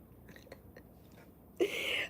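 Ice crunches between teeth, a few soft chewing clicks near the mouth followed by one loud, close crunch that grinds on to the end.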